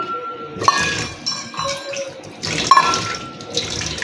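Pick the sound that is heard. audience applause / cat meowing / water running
water running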